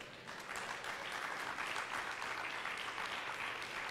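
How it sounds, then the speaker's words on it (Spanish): An evangelical church congregation claps in praise, a continuous, fairly distant and soft burst of many hands that swells slightly and holds steady throughout. "un aplauso a Jesucristo"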